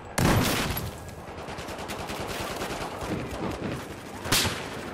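Rapid bursts of automatic gunfire crackle continuously in a Battlefield 4 match, with a sharp loud shot at the start and another near the end.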